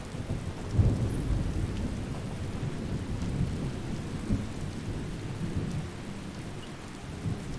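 Steady rain in the game Skyrim, with low rumbling thunder rolling underneath, continuous and fairly loud, with no voices.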